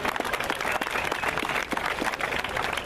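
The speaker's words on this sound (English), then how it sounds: "let's give Scott Air Force Base a round of applause" A crowd at a community road race marking Scott Air Force Base's centennial claps briefly, a fairly faint, steady patter of applause from a moderate distance.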